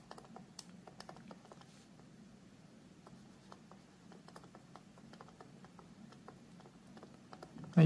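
A USI stylus pen tapping and scratching across a Lenovo IdeaPad Duet Chromebook screen, faint close clicks and ticks in irregular bursts, with a louder knock at the very end.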